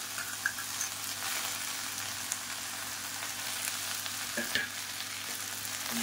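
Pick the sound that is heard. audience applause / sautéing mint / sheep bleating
sautéing mint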